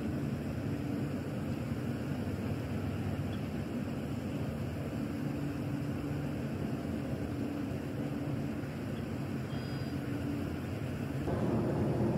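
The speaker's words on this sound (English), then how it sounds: "Hear those planes flying overhead." Airplanes on approach to DFW airport pass overhead beside Lewisville ponds as a steady, continuous low rumble and roar, with wind noise and no talking.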